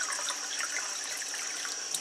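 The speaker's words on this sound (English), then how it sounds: "now I'm gonna collect 1 glass of Kangen water" Kangen water pours from a machine into a glass as a steady, fairly faint hiss of running liquid, constant throughout with no voices.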